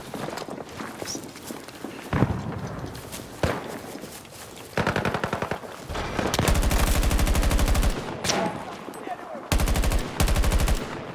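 Automatic gunfire in the shooter game Battlefield 2042, with several sustained bursts of rapid shots and scattered single cracks, close and loud, over footsteps and someone talking.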